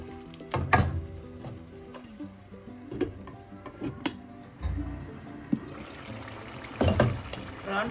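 Prawn masala with added water cooks in a covered pan, sizzling and bubbling softly with intermittent clinks and knocks of the lid and utensil, close and moderately quiet.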